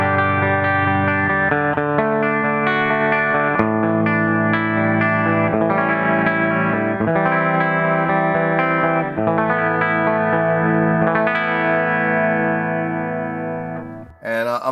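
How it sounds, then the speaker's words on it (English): Clean electric guitar tone played before a Fat Metal Pro distortion pedal is engaged: sustained chords and ringing notes with a bright, slightly chorused shimmer, loud and continuous with no talk, ending in a brief handling noise. "So here's the clean sound."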